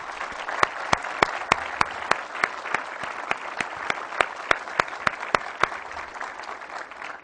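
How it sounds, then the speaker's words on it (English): Applause from an audience at a Representative Town Meeting honoring Boys Nation participants, dense clapping with sharp individual claps standing out, steady throughout at moderate loudness. "let's give them a nice round of applause"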